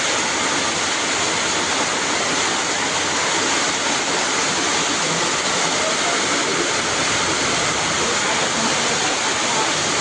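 Heavy monsoon downpour in a Konkan village, a dense, steady roar of rain and running water filling the whole stretch without pause, loud and close.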